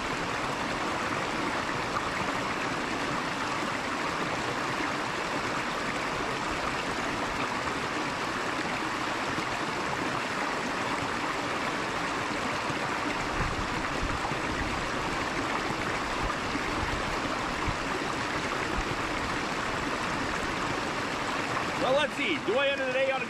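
Creek water flows continuously in a broad, steady rush close by at a gold-prospecting spot, even and unbroken throughout, with a brief splash near the end.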